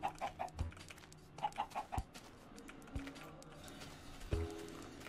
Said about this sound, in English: All the chickens love my seed